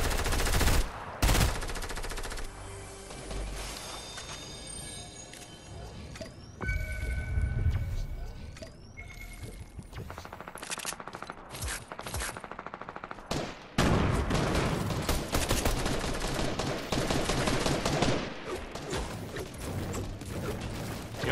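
Rapid bursts of automatic gunfire and single shots from the video game Fortnite crackle through a busy battle, with loud volleys, mechanical clicks and reload sounds scattered across the fight.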